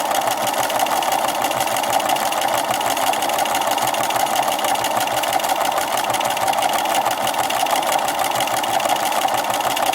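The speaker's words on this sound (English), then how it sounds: "this machine's really cool, how it has like 50 stitches that you could do" A computerized sewing machine works decorative stitch number 48 on a bookmark, humming and clattering in a loud, continuous, even run close by.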